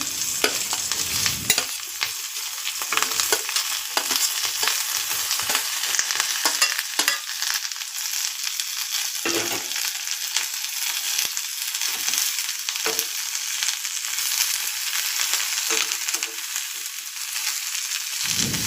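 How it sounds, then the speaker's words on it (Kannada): Chopped onion, tomato and coriander leaves frying in a kadai for hotel-style kurma: a continuous close sizzle with frequent scraping stirs of a spoon against the pan, steady for almost twenty seconds without speech. "ಅದೇ ಬಾಣಲೆಗೆ ಕಟ್ ಮಾಡಿದಂತಹ ಈರುಳ್ಳಿ ಟೊಮೆಟೊ ಕೊತ್ತಂಬರಿ ಸೊಪ್ಪನ್ನು ಹಾಕಿ ಚೆನ್ನಾಗಿ ಫ್ರೈ ಮಾಡ್ಕೊಳ್ಳಿ"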